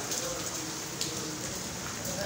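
Rain mixed with falling hailstones in Dhaka makes a dense, steady patter close by, with occasional sharper ticks of impacts and a voice faintly beneath.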